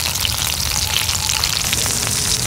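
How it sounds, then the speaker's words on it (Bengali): Pabda fish frying in hot oil, one side already browned, gives off a loud, steady, crackling sizzle that runs unbroken with no voices. "মাছটা এক পিঠ ভাজা হয়েছে, আর এক পিঠ উল্টেই দিই।"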